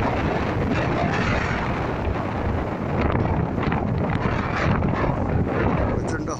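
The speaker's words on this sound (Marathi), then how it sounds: "प्रचंड हवा सुटलेली आहे, तरी धुकं आहे." A strong wind roars across Kumbharli Ghat, a misty Sahyadri mountain pass on the Chiplun–Karad road, with loud, continuous buffeting that fills the whole stretch without a break.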